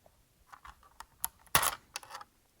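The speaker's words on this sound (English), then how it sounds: "I cut it with scissors first and then I pulled it off" A single sharp snip of scissors cutting through a plastic shipping strap on the packaging base of a Maisto 1/24 scale BMW M4 GTS model car, preceded by soft handling clicks and rustles, close and brief.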